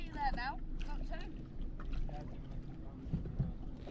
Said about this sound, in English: One jet ski there now, not two.